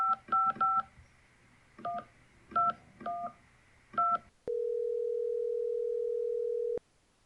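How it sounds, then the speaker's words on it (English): Telephone keypad tones as a number is dialed: several quick bursts of paired beeps in clusters, followed by a steady tone lasting a couple of seconds before cutting off. "Kevin, dial up Marsh."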